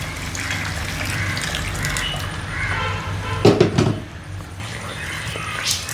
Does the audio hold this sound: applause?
no